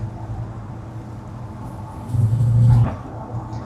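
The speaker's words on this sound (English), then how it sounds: "nothing will ever beat that big block Chevy sound" A restored 1956 Chevrolet 210 custom coupe with a cammed big block Chevy V8 rumbles low while driving, a faint steady drone that swells briefly louder near the end.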